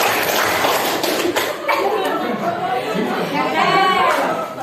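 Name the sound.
class clapping along in a clap game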